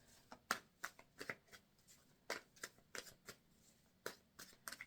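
Oracle cards being shuffled by hand, a series of crisp riffling bursts and soft slaps in uneven rhythm, close and quiet with no talk over them.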